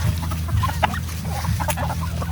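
Chickens at a rural provincial farm in Glan clucking softly at moderate distance over a low steady hum, with a few brief higher calls scattered throughout.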